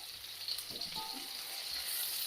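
Garlic, ginger and onion fry in a pan for adobong pork ribs, giving a soft, steady sizzle with a few faint scrapes of stirring, quiet and close, with no talk over it.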